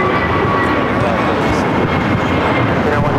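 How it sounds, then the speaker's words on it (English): An American Airlines A321neo takes off at LAX on a flight to Honolulu, its jet engines a loud, steady roar that fills the whole stretch without letting up. "This is American Airlines 297 taking off to Honolulu on the A321neo."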